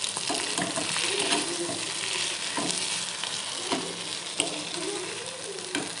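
Meat frying in the oil it has released sizzles steadily in a pan and is stirred now and then. There is no talk over it.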